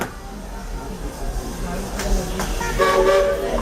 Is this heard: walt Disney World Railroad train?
yes